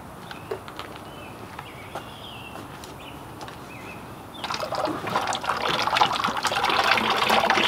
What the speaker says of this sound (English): Rinsing off the whisk.